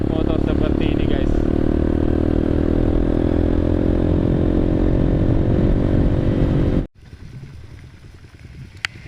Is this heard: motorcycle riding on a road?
yes